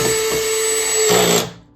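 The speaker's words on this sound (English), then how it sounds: "grab my power drill" Cordless power drill driving a screw into threaded metal inserts on an upright arcade cabinet, one steady high-pitched whirring run that rises in strain toward the end and then quickly stops.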